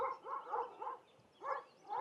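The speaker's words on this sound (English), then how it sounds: "Now that mountain dog has been barking all night." Two mountain dogs guarding goats in the Black Forest bark repeatedly in rhythmic bursts at night, moderately distant, with a short pause between volleys.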